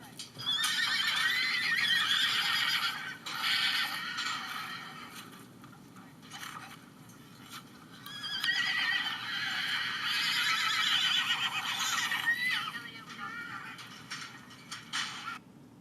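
Mares and foals penned together neigh and whinny repeatedly, shrill calls rising in two long bursts, with faint hoof clatter and background movement between them.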